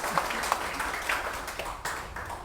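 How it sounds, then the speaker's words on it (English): An audience claps for the priest who celebrated Mass at a university Christmas Paskuhan gathering, with a sustained, moderately loud patter of many hands that holds steady throughout. "a round of applause"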